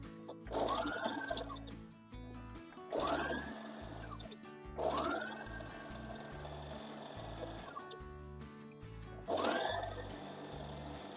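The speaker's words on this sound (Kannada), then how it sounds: "ಸುಮ್ಮನೆ ರ್ಯಾಂಡಮ್ ಆಗಿ ಸ್ಟಿಚ್ ಮಾಡ್ಕೊತಿದ್ದು." A sewing machine stitches a long gown in four separate bursts of fast, whirring needle action, each a couple of seconds long with short pauses between, close and clear with no talk.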